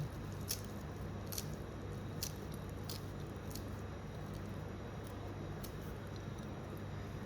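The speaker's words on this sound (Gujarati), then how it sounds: "કોથમીર આપણે ઝીણી કટિંગ કરી દઈએ" A knife finely chopping fresh coriander for bhaji, tapping the board in a steady series of sharp, close cuts about twice a second over a constant background hiss.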